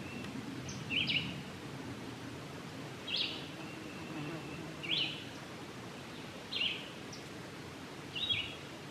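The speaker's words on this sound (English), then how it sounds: "Hear all the birds." Birds sing in sunny woods with a light breeze, short chirping phrases arriving every couple of seconds at moderate distance over a soft rustling background.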